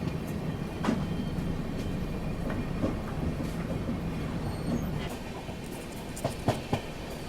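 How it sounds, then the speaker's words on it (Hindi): The Vikramshila Express runs at about 130 km/h, heard from inside as a steady rolling rumble with occasional sharp clicks and clacks of wheels over rail joints. "गाज़ियाबाद की स्लो स्किप के बाद ट्रेन लगातार 130 की रफ्तार में चल रही है अब"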